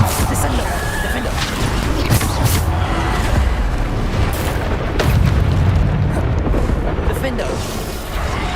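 Bombarda explosion spell cast in the Hogwarts Legacy video game: a dense, loud, continuous rumble of blasts with heavier booming surges around the middle, filling the whole stretch without pause.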